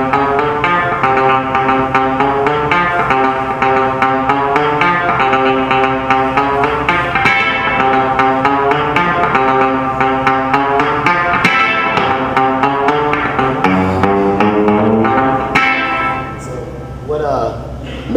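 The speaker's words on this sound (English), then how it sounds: "I'm just gonna play like a couple of the guitar parts" Funk guitar parts played on an electric guitar using the rear pickup: a steady stream of crisp, rhythmic plucked notes and choppy chord stabs, close and continuous until they fade out near the end.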